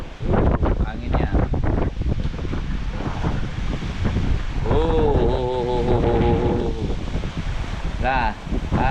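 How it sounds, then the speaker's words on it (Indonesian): Strong wind of Typhoon Wipha buffeting a microphone on a Hong Kong street, rough gusty roar with passing traffic and a person talking over it. "Anginnya."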